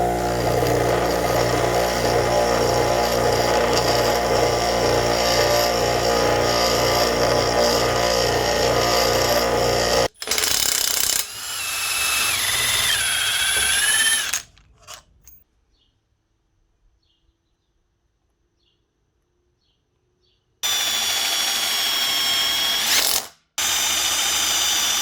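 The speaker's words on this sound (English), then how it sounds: "So what I'm going to do is grind this down to about 400 thou" Power grinding on a metal tab of an axle part runs loud and continuous for about ten seconds, then shorter bursts of grinding, a long quiet pause, and a final grinding burst, close up.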